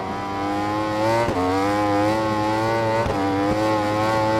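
A racing motorcycle engine in the Ride 4 game howls on track with traction control off, a loud sustained high-revving whine that dips briefly at two gear shifts and climbs again.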